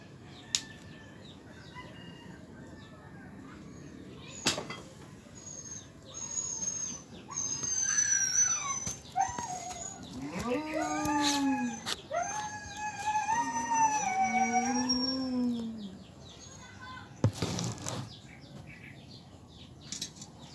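A dog whines and howls in long, rising and falling cries, with brief pauses and a few sharp knocks in a quiet setting.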